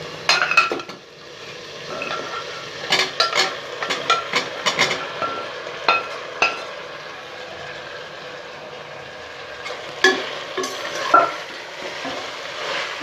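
Fried country chicken is sautéed in mashed tomato masala, with a low continuous sizzle broken by repeated clatters and scrapes of a spatula against the pan.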